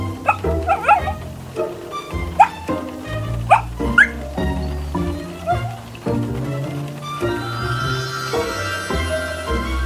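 Cocker Spaniel puppies barking and whimpering up close, with a string of sharp yips and short barks mixed with high whines, then a steadier sustained tone toward the end.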